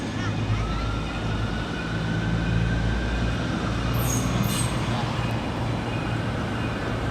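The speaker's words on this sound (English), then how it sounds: "there is an Up Express pulling in" A three-car UP Express train pulls into a station, a steady, loud rail rumble with a faint high squeal holding throughout, and brief sharp screeches partway through.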